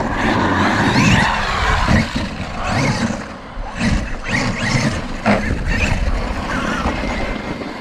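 A Traxxas XRT RC monster truck, running stock suspension and a Castle MMX8S 1717 1260kv brushless motor, tears through snow with a continuous high electric whine and surging tire spin that rises and falls.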